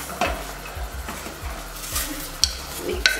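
Mutton (goat) stew stirred in a cooking pot, with repeated rhythmic scraping strokes, faint simmering underneath and occasional sharp clinks of the utensil against the pot.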